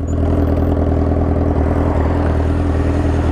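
A Honda CBR1000RR Repsol edition motorcycle with an aftermarket exhaust idles steadily and loudly up close, its deep engine drone holding an even tone throughout.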